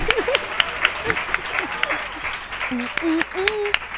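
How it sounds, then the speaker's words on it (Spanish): A podcast audience applauds the show's collaborators and guest, crisp scattered clapping from a small group close by, with voices talking and laughing over it throughout. "yo voy a pedir un fuerte aplauso A mis colaboradores, mi invitada de hoy, por favor"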